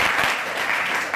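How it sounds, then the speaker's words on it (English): Applause from an audience at an anthology reading, a dense, steady burst of clapping heard up close and alone. "Let's welcome a nice round of applause."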